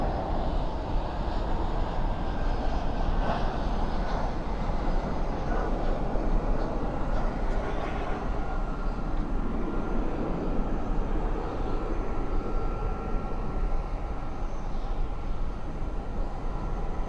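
An American Airlines jet takes off from runway 18 left at Dallas/Fort Worth airport at night, its engines giving a steady, loud, broadband roar that holds throughout with little change.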